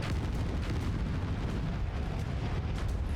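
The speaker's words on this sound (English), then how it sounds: "I just got hit by artillery" Artillery striking in MechWarrior 5: Mercenaries: a heavy, rumbling low-end barrage that stays loud across the whole short stretch, with scattered sharper impacts over a constant roar and no speech.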